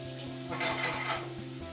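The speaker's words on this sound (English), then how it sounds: "Bacon. You'd like to hear that sizzle, so we got it nice and hot." Steady crackling sizzle of bacon frying in a hot pan, with occasional scraping and stirring clinks over it.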